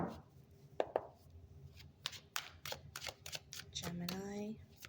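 Tarot cards being shuffled in short crisp riffles and taps, faint and close, scattered through a few seconds, with a voice briefly heard near the end.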